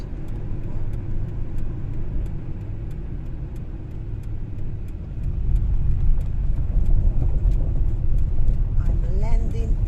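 A car on a road near Paphos, Cyprus, slows and pulls over, its engine rumble low and steady inside the cabin, growing rougher and louder midway as the tyres meet a rough surface; voices speak faintly over it.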